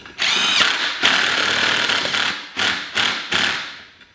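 Power tool, likely a Harbor Freight impact driver, runs down beadlock bolts to seat a tire bead, buzzing in one long loud burst followed by several short bursts, close up with no talking.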